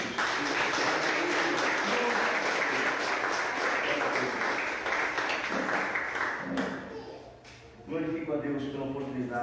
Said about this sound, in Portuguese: Aplaude Jesus por isso.